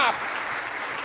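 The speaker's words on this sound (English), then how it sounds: "Now you stand up for police officers and clap." Brief burst of clapping from a crowd, dense and steady, lasting about a second with a bit of noise mixed in.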